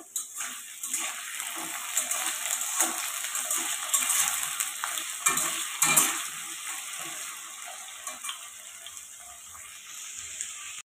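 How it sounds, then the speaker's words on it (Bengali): Potatoes fry in hot oil in a wok for aloo paneer, a steady moderate sizzle with scattered scraping stirs and small clinks running throughout, no voices. "আলুটাকে এখন ভাজা ভাজা করতে হবে।"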